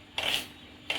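A knife slices onions thinly on a board, giving two brief raspy cutting strokes separated by a pause, close and fairly quiet.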